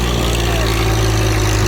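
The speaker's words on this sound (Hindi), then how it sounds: "लो के टॉप गियर में है ट्रैक्टर" A tractor engine in fourth, its top gear, towing a harrow with two men riding on it, drones steadily and loudly up close with a constant low hum throughout.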